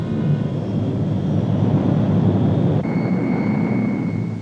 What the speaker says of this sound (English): The C-130 Hercules, newest and most versatile addition to the Navy's air fleet